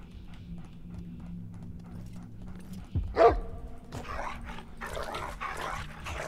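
A big dog barks and attacks in the Game of Thrones RPG, with a sharp yelp-like burst followed by repeated growling barks and scuffling over low background rumble.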